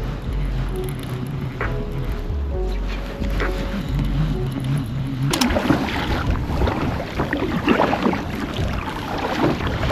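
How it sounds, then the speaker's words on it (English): Strong wind roars and buffets across a lake during kayak fishing, loud and continuous with gusty surges, growing rougher in the second half. "This wind is freaking horrible."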